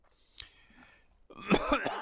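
A short throat-clearing cough, then a louder, harsher burst of coughing near the end, close up with no speech.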